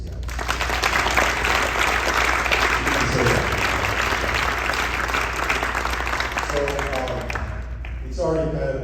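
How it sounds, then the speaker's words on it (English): A room full of people gives a sustained round of applause for the guys being celebrated at a welcome-home gathering, loud dense clapping that fades near the end as voices and cheers come through. "I just want to make sure we get one round of applause for these guys."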